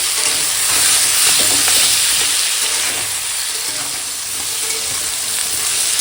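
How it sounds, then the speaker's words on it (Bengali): Pumpkin and potato pieces fry with salt in a pan, a loud, continuous sizzle close by, with occasional stirring scrapes and no one speaking. "লবণটা দিয়ে আর ভাজবো তাহলে তাড়াতাড়ি সবজিগুলো নরম হয়ে যাবে ভেজে"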